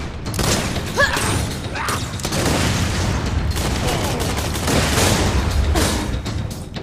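Grenade explosions and gunfire in the video game Borderlands 2 form a dense, continuous barrage of booms and shots, loud and close throughout, with a few brief effect sounds layered on top.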